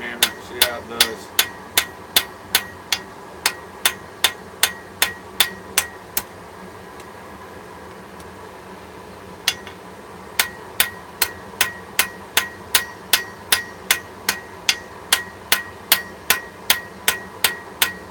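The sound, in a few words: small hammer striking metal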